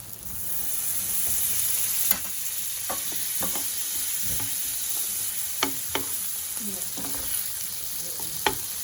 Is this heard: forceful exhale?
no